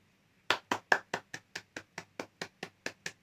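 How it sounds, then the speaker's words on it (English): Hands clapping in a steady rhythm, about a dozen sharp, close claps evenly spaced and gradually softening, with no voices. "I just clap hands, bro. I clap hands."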